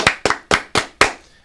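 Five sharp hand claps ring out at a steady, even pace, close and loud with nothing else behind them.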